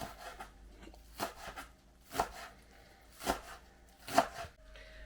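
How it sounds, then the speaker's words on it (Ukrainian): A knife chops an onion on a board in slow, evenly spaced strokes, about five distinct cuts, close up with no talking. "Нарізаємо цибулю."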